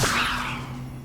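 Levioso spell cast in Hogwarts Legacy: a single bright magical swish with a shimmering tail that fades out over about a second, heard alone.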